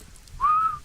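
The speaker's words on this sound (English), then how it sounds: "Whistle again. Whistle." A short whistled note, rising then holding steady, sounds close and clear against faint background noise.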